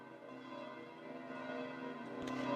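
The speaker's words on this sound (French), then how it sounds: "C'est sur les cloches de Saint-Pierre qui sonnent à la volée que je vous laisse" The church bells of Saint Peter's ring in full swing, their overlapping tones blending into a steady, resonant wash that grows slightly louder, heard from a distance.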